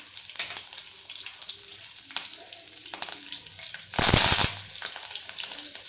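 Green chilli pieces drop into hot oil for a dhokla tempering and crackle steadily, with a loud burst of spitting sizzle midway before settling back to a gentle fry.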